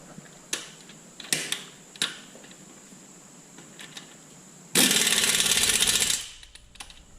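An Earthquake XT impact wrench tightens the nuts on a Kubota L3400 tractor during clutch adjustment: a few scattered metallic clicks and clanks, then one loud, dense rattling burst lasting over a second, close by.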